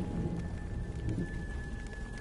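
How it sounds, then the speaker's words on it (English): Steady rain hissing with low rolls of thunder in the survival-horror video game The Evil Within, heard softly and alone as a continuous stormy wash. "Now it's starting to rain."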